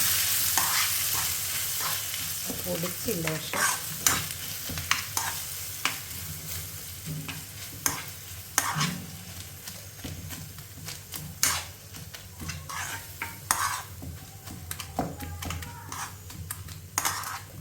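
A spoon scrapes and stirs ground coconut paste into fried bitter gourd in a pan for an Onam sadhya kichadi. Repeated clinks and scrapes sound over a soft sizzle, and a voice briefly speaks.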